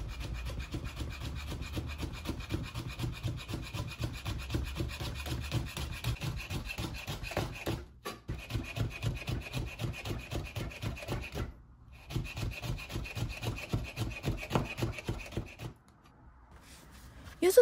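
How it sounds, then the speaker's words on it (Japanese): A knife slices thin strips from halved yuzu peel on a cutting board, giving a quick, steady run of soft rasping cuts, close and fairly quiet, broken by two short pauses before trailing off. "丸いままだと切りにくいので、半分に切ってスライスしていきます。"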